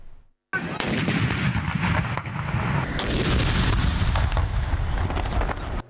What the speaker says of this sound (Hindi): दिन का आगाज 21 तोपों की सलामी से हुआ।